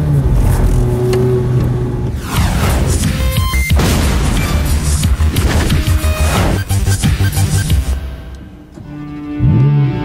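The engine of a Ferrari F430 Scuderia sports car roars close and loud through rising and falling revs over several seconds, with a brief lull before a final surge.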